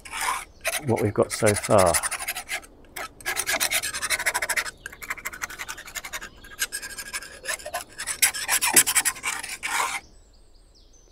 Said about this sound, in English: Let's get the palette knife on there, quick scrape off